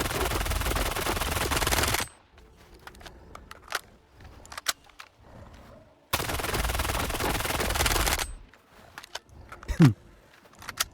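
Two long bursts of rapid automatic rifle gunfire in STALKER 2, separated by quieter clicks and mechanical handling sounds.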